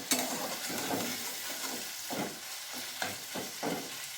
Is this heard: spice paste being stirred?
yes